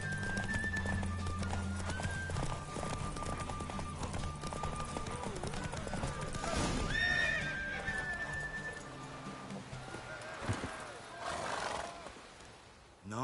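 Geralt's horse Roach gallops with rapid hoofbeats and repeated loud neighs and whinnies in The Witcher 3, a game soundtrack and ambience underneath, fading near the end.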